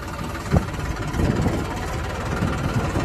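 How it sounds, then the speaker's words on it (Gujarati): Brand-new New Holland tractor engine running at a steady idle, a loud continuous low rumble with a brief knock near the start, close by and with no talk. "પહેલું નવું ટ્રેક્ટર હાકીએ છીએ ભાઈ."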